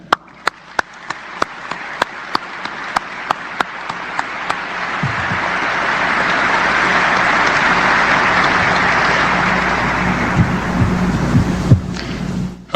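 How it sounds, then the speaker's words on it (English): An audience applauds Randall and his family at a military change of command ceremony, beginning with several rhythmic claps that swell into sustained, loud applause, with a low hum underneath, before tapering off. "let's have a round of applause for Randall and his family"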